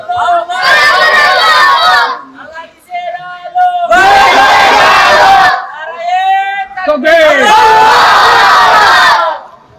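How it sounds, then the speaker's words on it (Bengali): A large crowd in Cox's Bazar shouts the takbir slogan "Naraye Takbir" together at an Islamic sermon, three loud, reverberant massed cries separated by short pauses, close and dominant. "একজন নারায়ে তাকবীর দেন, বলেন নারায়ে তাকবীর।"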